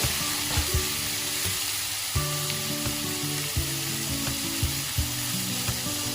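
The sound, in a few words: curry leaves and tomato sizzling while being stirred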